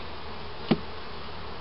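A steady, dense buzz of honeybees at an opened hive during a summer hive inspection, continuous and fairly loud, with one brief soft knock partway through and no talk.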